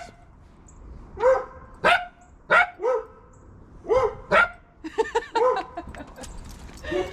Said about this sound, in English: Alternating barks.